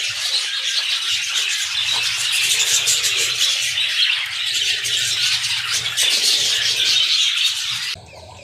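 A flock of small budgerigars chirps and tweets nonstop in a zoo aviary at Indroda Nature Park, Gandhinagar. The high, dense twittering stays steady and fairly loud throughout, with no voices.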